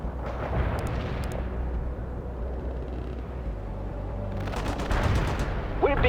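Dense, sustained battlefield gunfire in the World in Conflict war game, with rattling automatic bursts and heavy explosive booms layered together, growing louder and sharper toward the end.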